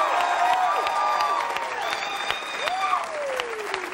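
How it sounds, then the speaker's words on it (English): Studio audience at a television dating game show applauding contestants, a sustained crowd of clapping with some cheering, while a host's voice carries over the top. "Give them all a big round of applause,"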